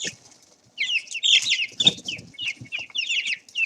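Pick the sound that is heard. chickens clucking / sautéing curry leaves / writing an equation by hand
chickens clucking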